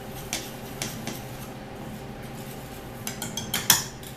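Dry buttermilk biscuit ingredients with iodized salt being mixed in a bowl, giving faint scattered clinks and scrapes of a utensil, a few sharper taps near the end, over quiet room noise.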